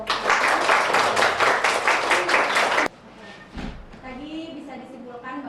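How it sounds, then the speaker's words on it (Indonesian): Students in a classroom give group 1 a burst of close, lively applause for about three seconds. It cuts off abruptly into quiet room sound with a voice speaking. "Oke, kita beri aplaus untuk kelompok 1."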